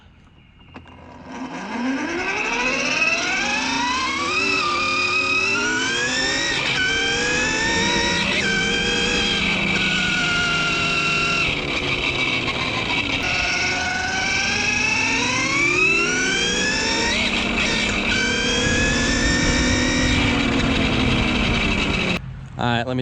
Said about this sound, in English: definitely not the quietest electric dirt bike I've built. Definitely the loudest.